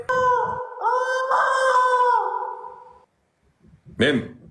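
A person imitates a rooster's crow with the voice, a drawn-out, wavering cock-a-doodle cry that lasts a couple of seconds, followed after a pause by a short vocal burst.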